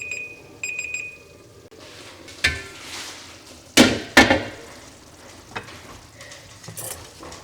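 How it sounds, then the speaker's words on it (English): A kitchen timer beeps in quick repeated bursts near the start while ground beef goulash with macaroni sizzles and bubbles in a pan, followed by a few louder clatters of cookware. "timer's going off"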